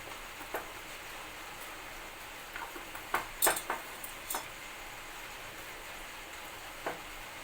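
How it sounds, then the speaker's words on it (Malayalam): Oil sizzles faintly in a pressure cooker with potato and onion, a soft steady crackle broken by scattered sharp pops and ticks, clustered in the middle and quieter toward the end. "നമ്മുടെ ആ ഒരു കുക്കറിലിരുന്ന് അത് തിളയ്ക്കുന്നത് ആ എണ്ണ കിടന്ന് ഒന്ന് തിളയ്ക്കുന്ന ഒരു രംഗം കാണാൻ പറ്റുന്നുണ്ടാവും"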